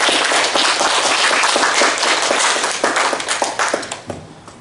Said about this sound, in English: Can we give the Lord Jesus a hand clapping?